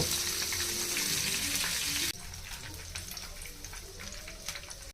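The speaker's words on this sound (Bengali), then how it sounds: "এভাবে চিকেনগুলো আরও এক মিনিট ভেজে নিব" Chicken pieces deep-frying in hot oil for restaurant-style fried chicken, a dense, steady crackling sizzle that drops suddenly to a softer bubbling fry partway through, close up with no voices.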